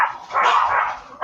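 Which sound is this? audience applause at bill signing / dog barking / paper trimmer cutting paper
dog barking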